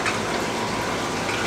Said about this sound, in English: as you can see, the water's moving pretty quick across here